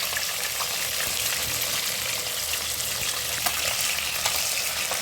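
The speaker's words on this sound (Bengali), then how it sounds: "তো এই জন্যই মাছটা এখন একটু ভেজে নিচ্ছি।" Pieces of a large catla fish shallow-frying in a pan, a dense continuous hiss and sputter of hot oil heard up close with no talking.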